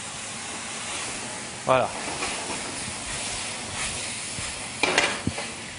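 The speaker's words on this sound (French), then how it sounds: "nous allons flamber au cognac notre viande" Beef in a hot frying pan flambéed with cognac, a steady sizzling hiss with a couple of sharp bursts and pan clatter as it catches, someone speaking briefly over it.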